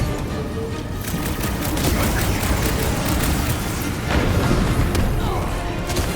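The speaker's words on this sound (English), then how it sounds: "Should we be shooting this close to these things?" Gunfire during combat in the Guardians of the Galaxy video game, a loud, dense barrage of rapid shots and booms that runs continuously through the whole stretch with no pause.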